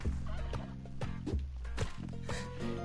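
A turkey in Spelunky 2 gobbles in quick rattling bursts, about five of them, over a steady musical game soundtrack.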